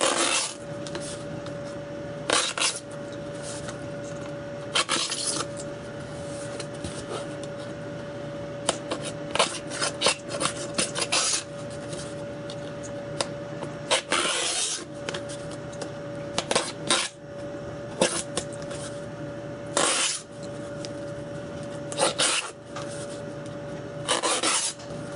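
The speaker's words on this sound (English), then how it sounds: "Oop, let's put a scratch in it." A component for a Wimshurst machine is scratched and filed, repeated rasping strokes in uneven bursts over nearly half a minute, close and clear over a faint steady tone.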